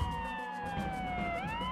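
Emergency vehicle siren wailing steadily, close and loud, with sweeping rising and falling tones and no speech.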